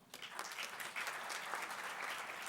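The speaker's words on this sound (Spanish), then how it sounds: "Recibámoslo con un aplauso." An audience at a Franco-Chilean Chamber of Commerce and Industry conference gives a welcoming round of applause for a speaker, brisk and steady clapping heard at a fairly low level from a distance.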